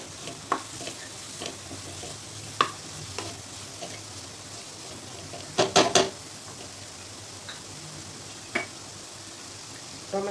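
Tomato tipped into a pan of spice paste frying hot, a low steady sizzle with scattered clinks and scrapes of a spoon, one louder clatter midway.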